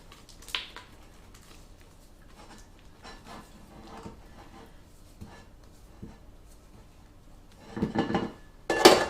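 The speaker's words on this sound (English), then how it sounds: "just scrape this bowl down" A spatula scraping down the sides of a mixing bowl of icing, quiet scattered scrapes and knocks, then a louder burst of scraping and a clink toward the end.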